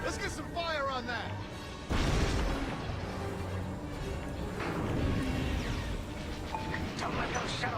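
Spaceship blaster fire and heavy explosions from the Star Wars Squadrons video game rumble and boom continuously, with a big blast near the start, under voiced in-game radio chatter.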